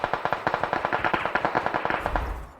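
Rapid bursts of automatic gunfire from the video game PUBG Mobile, a steady fast rhythm of close, loud shots that thins out near the end.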